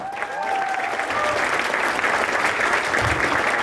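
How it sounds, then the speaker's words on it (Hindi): A crowd applauds loudly and steadily, dense clapping filling the whole stretch without a break, with faint cheering mixed in. "मैं चाहूंगा उनके लिए जोरदार तालियां।"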